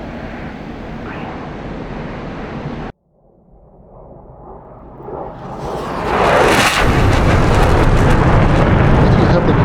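Unguided bombs dropped from a MiG-29S in DCS World hit the ground, a loud rumbling blast building into a sustained roaring wash after a brief drop in sound.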